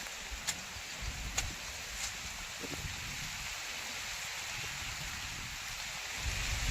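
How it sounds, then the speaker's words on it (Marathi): Heavy rain pours down steadily on farmland in a dense, continuous hiss, with a few sharp drips and a low rumble beneath. "खूप जोरात पाऊस आला आहेत"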